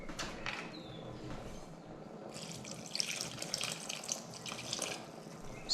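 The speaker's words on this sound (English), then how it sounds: "And then probably I'm going to add a bit more water." Water pours into a pot of lentil curry with aubergine, a running, splashing stream that swells louder partway through, close by and with no talking.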